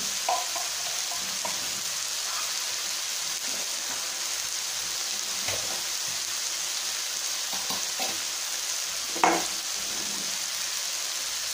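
Ground spices (coriander powder, turmeric) fry in hot oil in a pan for a Tamil mini meal maker gravy, a steady close sizzle with occasional scraping stirs of a spoon.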